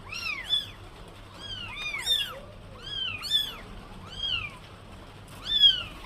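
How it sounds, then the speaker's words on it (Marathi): Several kittens meow repeatedly in high, thin, rising-and-falling cries, overlapping in bursts close by against a quiet background. "2 बोके आणि 1 मांजर आहे."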